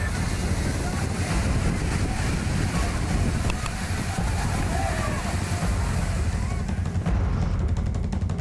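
Water pouring heavily over the Moti Sagar dam where people play in the falling flow, a dense, continuous roar with wind buffeting the microphone, while a voice speaks over it.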